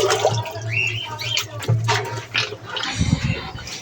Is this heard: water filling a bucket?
yes